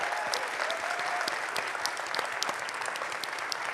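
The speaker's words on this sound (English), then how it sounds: "can we extend our applause to Toby for putting out one hell of a fight" An audience at a conference event applauds with steady, dense clapping heard from within the room, continuous and even throughout.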